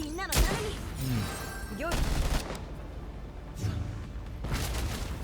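Gunfire in the video game Girls Frontline 2: a few sharp shots and bursts over a noisy battle background, heard under a speaker's voice.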